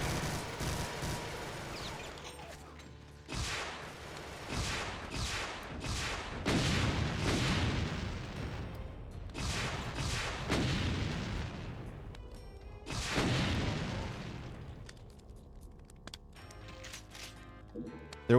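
Heavy gunfire and booming explosions from a Doom game with the Brutal Doom mod as a chaingunner enemy opens up, loud repeated bursts and blasts over about eighteen seconds with brief lulls between volleys.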